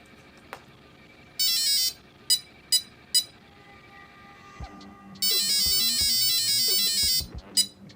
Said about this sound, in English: Now go full reverse once you hear that tone and the red light blinking